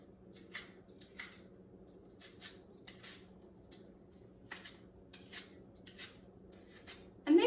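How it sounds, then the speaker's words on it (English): Peeling an apple and cutting around a bruise with a knife produces a steady series of soft, crisp scraping strokes in a quiet kitchen, ending with a louder clatter. "we'll just kind of peel it and then we'll cut around that spot"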